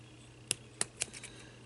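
Precision scissors snip string pieces near a pearl during bottle pendant crafting, giving three sharp close clicks followed by a couple of softer snips, alone in a quiet room.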